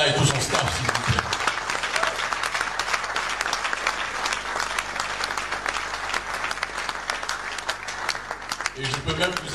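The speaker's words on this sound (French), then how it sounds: "Mais applaudissez fortement Paul Ella et tout son staff, s'il vous plaît." An audience at an award ceremony applauds loudly and continuously, a dense wash of many hands clapping that fills the whole stretch, with a voice faintly heard at the edges.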